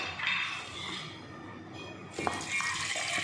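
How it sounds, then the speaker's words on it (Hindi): Water poured into a pressure cooker holding matar paneer: a steady, soft hissing splash that swells again near the end, close but fairly quiet, with no talk. "इसमें हम थोड़ा सा पानी डाल करके"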